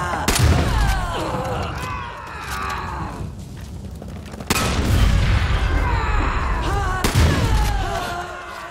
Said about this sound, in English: Explosions, they come in handy.